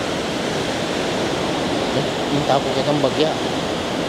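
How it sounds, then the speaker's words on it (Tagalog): Strong, fast river current pouring at a dam in Santa Rita, Lubao, Pampanga, a steady broadband rush of water heard up close, with someone talking over it partway through. "yan po yung agos ng danog, kalakas na yung agos"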